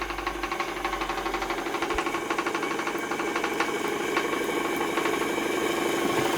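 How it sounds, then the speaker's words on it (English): A Stuart Turner 10H model steam engine running on about 15 psi steam with a small exhaust leak, giving a steady, fast mechanical chuffing and knocking throughout, close up with no talk. "Oh, I love running this engine."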